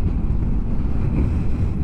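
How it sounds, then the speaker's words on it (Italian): Strong wind sweeping across open land beside Ruta 40 in Patagonia, a steady loud low roar buffeting the microphone and masking any flag flutter, continuous for the whole stretch with no voices. "Guardate il vento sulla bandiera."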